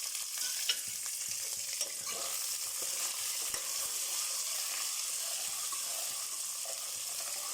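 Onions frying in oil with golden-brown urad dal for marriage-style sambar, a steady close hiss and crackle of sizzling with occasional stirring scrapes and taps throughout.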